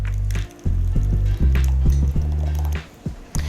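Cold gazpacho soup is poured into a bowl with liquid glugging and splashing, several uneven pours and drips under loud background hum.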